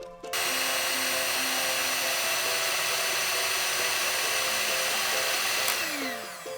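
Electric mixer beating cake batter as milk is added, a steady loud whirring motor drone that starts abruptly and holds evenly for several seconds, then winds down slightly at the end, with no talking.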